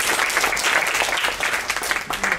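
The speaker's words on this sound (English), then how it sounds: "A round of applause." A round of applause from a workshop audience for the closing speaker, dense continuous clapping filling the room, loud and close throughout.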